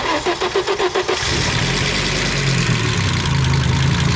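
A turbocharged car with a faulty turbo cranks in a quick run of even starter pulses, then catches and settles into a steady, loud, low idle rumble.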